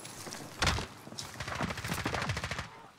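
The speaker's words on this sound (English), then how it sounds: "He hit him with a shotgun." Shotgun fire in the online shooter Call of Duty: Warzone, during the last fight near a house. Several sharp blasts come from close by, with a heavy boom early on and a quick string of shots after it, and no voices.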